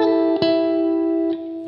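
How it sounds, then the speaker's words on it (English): Electric guitar with a clean, ringing tone plays a 10-to-8 pull-off that also catches the open first string, leaving sustained sweet overlapping notes with a soft pluck near the start and another light attack toward the end. "As he pulls off this 10 to 8, his finger catches the first string open"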